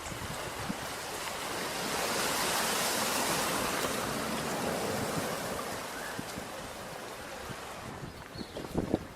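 Steady roar of surf and rushing water with wind noise in Moquegua, southern Peru, broad and continuous, swelling slightly in the middle before easing.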